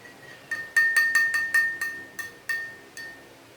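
A spoon stirs a solution in a drinking glass, giving about a dozen bright ringing clinks in a quick, slightly uneven rhythm that slows toward the end, close and clear with no talking.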